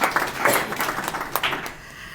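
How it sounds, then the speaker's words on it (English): A gathered audience at an event on widowhood claps briefly, a scattered run of sharp hand claps that thins out and fades after about a second and a half. "You can clap for yourselves."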